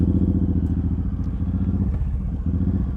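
A Suzuki M109R motorcycle idles and creeps through a slow U-turn in a parking lot, its deep, throbbing engine pulse loud and close throughout with small clatters over it.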